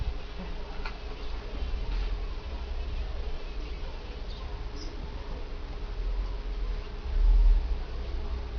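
Jataí stingless bees swarming around their hive outdoors, giving a steady, close, low insect buzz with faint flecks of individual wingbeats and a brief louder swell near the end, no talk.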